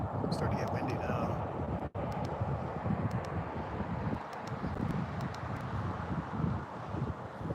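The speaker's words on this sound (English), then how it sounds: "It's starting to get windy now." Strong wind roars and buffets the microphone while trout fishing, in a continuous low rumble, with brief gusts and a momentary dropout.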